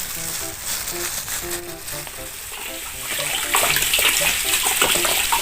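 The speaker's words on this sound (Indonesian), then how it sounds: "Nah, kita cuci ya teman-teman akarnya untuk membersihkan dia dari jamur-jamur yang melekat di akar-akarnya itu" Running water pours over the roots of an elephant-ear anthurium as they are washed clean of fungus, a steady splashing rush that grows slightly louder toward the end, with no talking.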